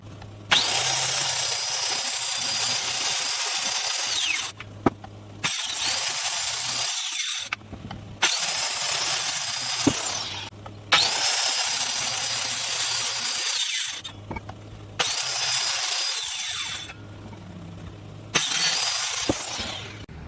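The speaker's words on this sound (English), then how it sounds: "If you, like me, used a skill saw just like that" A handheld circular saw cuts through 4x4 wooden post boards in repeated bursts, each cut a loud high whine that drops out into brief quiet between passes, about six cuts in a row.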